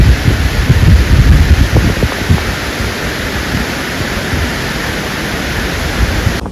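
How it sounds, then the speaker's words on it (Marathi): Strong evening wind on a hillside at a forest campsite roars steadily against the microphone, a loud, broad rushing noise with heavier gusts buffeting at the start. "साडेसहा वाजता बघा वारा किती सुटलाय"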